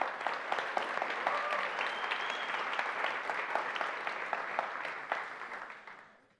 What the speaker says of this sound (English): because I love the sound of applause, just really quickly, for all the organizers for putting together this amazing event.